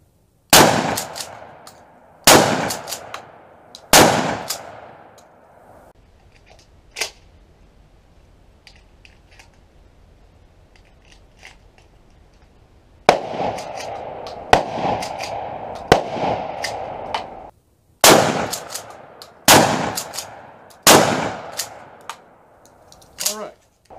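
Mossberg 500 Compact Cruiser pump shotgun fitted with a laser and light, firing about ten loud, sharp reports in two bursts with a quiet gap between, each blast trailing off in echo.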